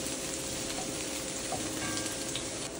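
Onion and garlic frying in cooking oil in a home kitchen, a steady dense sizzle and crackle that stays even throughout, with no talking.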